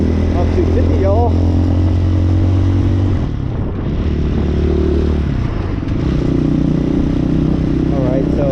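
A Hawk 250cc motorcycle riding along, its engine droning loud and steady with slight shifts in pitch as it eases off and picks up again, with wind rush and a few faint chirps over the top.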